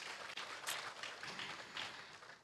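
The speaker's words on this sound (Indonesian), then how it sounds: "Wih, tepuk tangan." Quiet audience applause at a talk show, a soft, brief patter of scattered hands clapping at a distance, faint and without voices.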